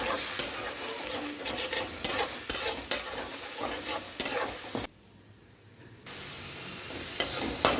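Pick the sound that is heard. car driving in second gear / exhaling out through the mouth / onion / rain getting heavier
onion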